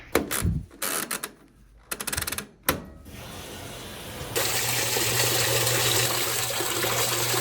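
A few mechanical clicks and clunks, then a steady rush of water flowing into a washing machine, continuous and fairly close, with no talking.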